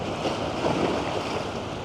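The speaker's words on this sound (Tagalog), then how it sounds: "Malakas din talaga yung alon sa season na to." Strong ocean waves washing onto a beach in the Maldives, a steady roar of surf mixed with wind buffeting the microphone, continuous and fairly loud.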